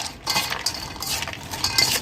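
A metal spoon stirs a dry bhel mixture in a bowl for about two seconds, with quick scraping and clinking strokes close by and no talking.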